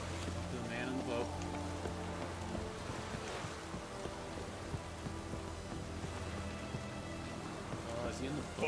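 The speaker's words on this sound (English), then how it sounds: "Looks like rain." Steady rain in the video game The Witcher 3, heard near a boat on the water, a constant dense hiss that runs throughout beneath game music and faint in-game voices.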